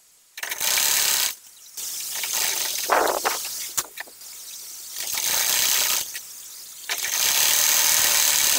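A sewing machine stitching a child's gathered pant, running in sustained bursts of fast whirring, mechanical chatter separated by short pauses, loud and close with no talk.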